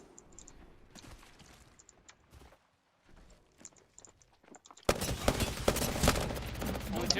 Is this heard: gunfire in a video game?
yes